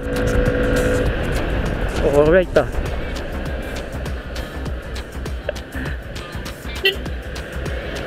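Rusi XDV 175 motorcycle on a highway, engine rising and revving as it pulls away, with wind and road noise and someone talking over it.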